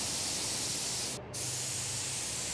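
Spray gun hissing steadily while varnishing in a factory spray booth, a continuous broadband spray that briefly cuts out and then resumes at close range.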